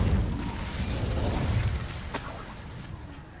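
An Incendio fire spell is cast in Hogwarts Legacy: a low roaring, crackling burst of flame with mechanical clicks, fading gradually toward the end, close and moderately loud.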